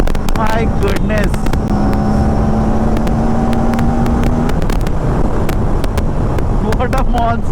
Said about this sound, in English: just see the empty stretches of road ahead and gun the throttle, and RS457 will never disappoint you